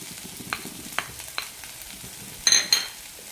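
Grated coconut being stirred into cooked tomatoes in a pan for a horse gram chutney: soft scrapes and light clinks spaced about every half second over a faint sizzle, ending in two sharper, louder scrapes.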